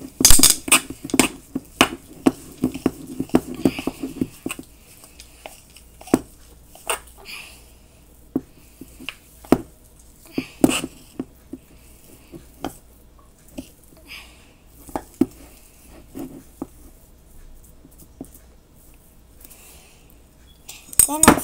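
Sticky homemade model clay dough mixed in a bowl, with a run of scraping clinks and taps from a utensil against the bowl, busy at first and then sparser, while someone talks.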